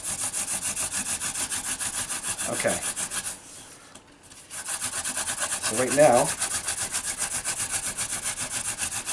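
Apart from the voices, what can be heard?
wooden hand drill spindle grinding into fireboard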